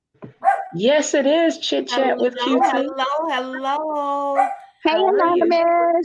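Several household dogs bark and yip indoors during a live chat, the barks mixed in close and loud under continuous friendly talk from a woman greeting viewers.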